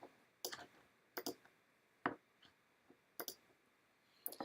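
A computer mouse clicks a software installer's Next button during a Centrify Server Suite setup, giving several sharp, isolated clicks spaced irregularly about a second apart against a quiet background.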